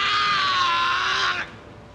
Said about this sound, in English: He's screaming